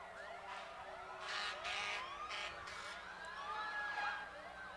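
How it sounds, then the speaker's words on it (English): Several emergency vehicle sirens in a parade wail and yelp together at a distance, their overlapping sweeping tones rising and falling continuously over low background rumble. "You can hear the sirens in the back."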